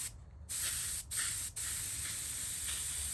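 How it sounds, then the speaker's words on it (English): Cleaner sprays through an airbrush in short hissing bursts: a brief spray, a pause, then longer steady hissing broken by quick gaps, fairly close and moderately quiet. "spray cleaner through your airbrush"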